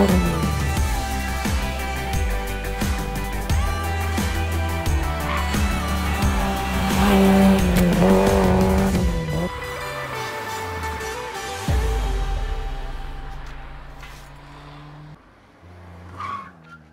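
A Suzuki car at an autoslalom event in Stans, Tyrol, revs hard through gear changes with skidding tyres and squeals, engine pitch rising and falling, then fading as it pulls away.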